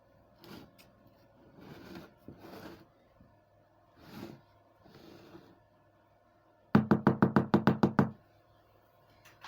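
A cake pan filled with batter is tapped repeatedly on a table, about nine quick, sharp knocks in a close, loud burst after several softer, scattered bumps.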